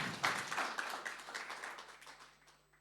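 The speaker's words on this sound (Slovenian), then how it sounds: "So let's welcome them with a round of applause." Applause from a church congregation welcoming guests, a short round of moderate clapping that starts fairly strong and fades away over a few seconds.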